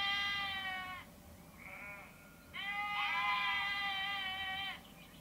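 A sheep bleats in two calls, a wavering nasal cry followed by a longer, stronger one after a short pause, clear and close over faint background hiss.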